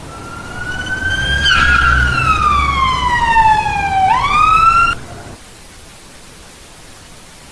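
A police car siren wails loud and close, its pitch rising and then sweeping down through a long cycle before climbing again, then cutting off abruptly and leaving near silence.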